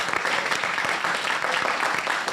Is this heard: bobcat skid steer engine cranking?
no